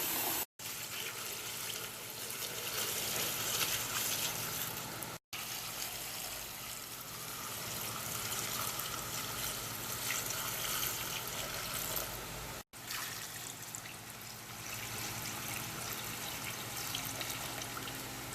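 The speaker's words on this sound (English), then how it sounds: "we've got to fill up the rest of the crock with water." Water pours steadily into a crock of cucumbers being filled for pickling, a continuous rushing splash broken by a few brief stops, with no talk.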